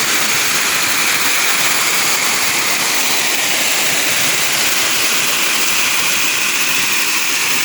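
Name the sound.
Dapingan Falls waterfall flowing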